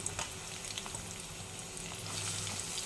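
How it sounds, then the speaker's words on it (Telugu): Onion pieces frying in hot oil for a mutton and raw mango dish, a soft steady sizzle with faint crackles and pops, close and quiet, without talk. "ఆయిల్ వేడెక్కింది, ఉల్లిపాయ ముక్కలు వేసేస్తున్నాను"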